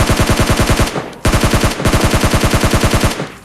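Automatic gunfire in PUBG Mobile Lite: two rapid, evenly spaced bursts of loud close shots, each about a second long, separated by a short pause.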